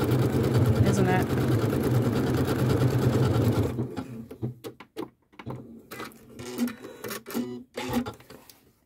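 A Janome sewing machine runs steadily for nearly four seconds, stitching a back-and-forth zigzag-type stitch with a ribbon guide attachment, then stops, leaving faint clicks and handling noises alongside quiet talk.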